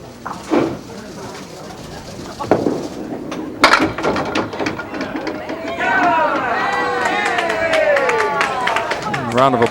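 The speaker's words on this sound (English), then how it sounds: "Round of applause." Applause and crowd noise at a televised bowling tournament, a short burst of clapping heard alongside an announcer's speech and faint squeaky sounds in a bowling center.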